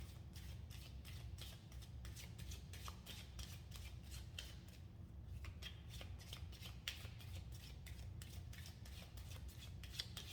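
Tarot cards being shuffled for a reading, a steady rapid riffling and flicking of card stock that runs continuously at close range, with no talking.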